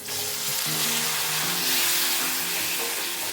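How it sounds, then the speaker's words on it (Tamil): Tomatoes go into a pan of frying onions for prawn thokku, producing a loud, steady, close sizzle with a faint low hum underneath throughout. "நம்ம இப்போ டொமேட்டோ போட்டுடலாம்."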